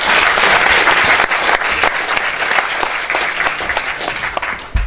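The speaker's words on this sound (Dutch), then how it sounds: "nog één applaus voor Djehouti" Audience applause at a talk on eurocentrism, dense steady clapping from a seated crowd filling nearly five seconds at close range, loud and continuous with no speech over it.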